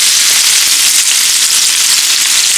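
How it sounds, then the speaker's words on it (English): Onions frying in a pan at home, a loud, steady broadband sizzle and crackle that stays even and close throughout, with no voices. "I'm making some onions."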